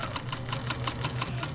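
A sewing machine stitches quilt fabric for a village-style quilt block, giving a steady, rapid, evenly pulsing whir with a low motor hum, close and continuous with no talking.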